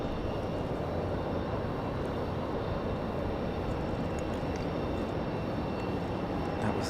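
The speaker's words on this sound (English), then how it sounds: "That was the 737 from earlier" A Boeing 737 airliner at Raleigh-Durham airport at night, heard as a steady, fairly distant jet rumble that holds evenly throughout with no talk.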